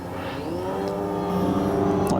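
Radio-controlled 104-inch Extra 300 aerobatic aircraft climbing on a 45-degree upline at full throttle, its engine a steady loud drone rising slightly in pitch, with a brief whooshing rush near the end.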